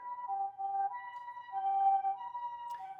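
A two-tone Japanese ambulance siren from a rewired toy or device alternates between high and low pitches in a steady, clean pattern, fairly quiet and with no other sounds.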